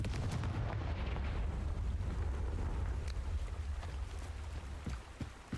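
A fiery Confringo spell explodes in a video game with a heavy, booming rumble and crackling bursts, loud and sustained for several seconds with no voices over it.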